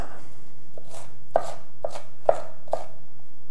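A knife cutting onions on a board in a home kitchen while making carrot ginger soup: a handful of crisp, separate chops spaced irregularly, close and clear against a quiet background.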